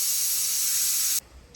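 Khichdi being tempered with spices makes a loud, steady hiss that cuts off abruptly after about a second.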